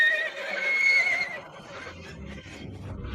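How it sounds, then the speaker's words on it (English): A horse being tripped lets out a loud, shrill whinny that fades after about a second. Scuffling and low thudding movement follow. "Grab the reins. Trip the horse."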